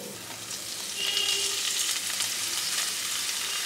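Chhana (cottage cheese) fries in spice masala, a bright, close sizzle that grows louder after a second and stays steady, with light stirring; no talk.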